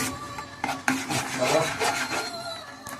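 Homemade milk chocolate mixture stirred in a pot, giving a rasping, scraping whisk-like rub that runs steadily with a few sharper knocks against the vessel, close and moderately loud with no talking.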